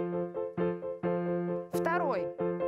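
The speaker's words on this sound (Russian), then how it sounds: "Вот смотрите, три аккорда звучат так." Piano-like chords from a music lecture demonstration, struck several times in a steady rhythm with a sustained low note under them. Near the end a brief voice-like sweep cuts across one of the chords.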